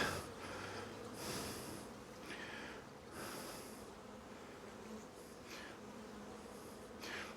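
Honey bees hum and buzz in an open hive during an inspection after a Demaree split, a faint, steady drone close by with occasional louder swells as individual bees fly past, and no talking.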